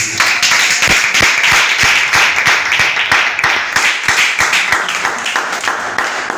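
A church congregation claps together at a Sunday service, loud rhythmic clapping at a steady beat filling the room, with a faint murmur of voices underneath.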